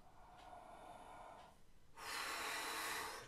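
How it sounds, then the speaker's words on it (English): Slow breathing during a rib-stretching exercise done lying with legs straight and torso turned: a long, soft airy inhale followed by a louder, fuller exhale, close and alone with no talk. "inhale and exhale 3 times, or you can do more"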